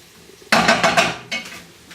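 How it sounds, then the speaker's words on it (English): Cooking utensils scrape and stir chopped chilli into beef in a pan, a few quick clattering strokes close up, starting after a brief quiet moment, with faint sizzle beneath. "I'll grab my utensils to mix it in with the beef"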